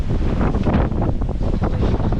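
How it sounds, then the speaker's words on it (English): Strong, gusty tropical-storm wind roars steadily and buffets the microphone, with a low rumble, during a road trip in a 2023 Chevy Bolt; no one speaks. "it is really windy"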